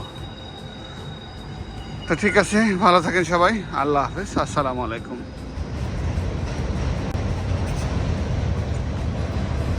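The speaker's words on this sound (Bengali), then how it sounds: "ওই যে ওই পাশে একটা ট্রেন যাচ্ছে" A train passes at a distance, its low rumble growing into a steady, loud rolling roar that carries on after a voice talks over the start.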